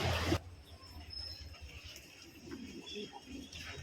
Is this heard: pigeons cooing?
yes